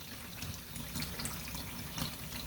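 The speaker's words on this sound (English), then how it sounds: "I'm going to fill it up using the faucet" A kitchen faucet runs steadily into a cool-mist diffuser's water tank, a continuous close hiss and splash of filling water with no talking.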